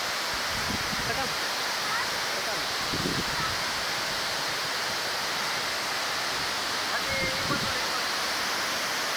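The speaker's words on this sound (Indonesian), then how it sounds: "Ini baru di air terjun 1." Steady broadband rush of Tinoor Waterfall, the first falls at the site, filling the whole clip at moderate level, with a few brief low thumps and faint voices in the background.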